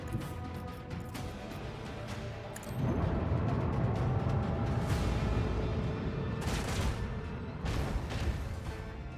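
A lance battery fires a volley in the Warhammer 40K Rogue Trader video game, a dense roaring barrage of booms and crashes that swells suddenly after a quieter rumble. Bursts of blasts keep pounding steadily throughout.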